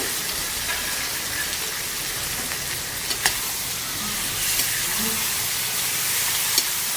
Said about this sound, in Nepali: अब यसलाई पनि 5 मिनटसम्म हाई फ्लेममा आरामले भुट्ने।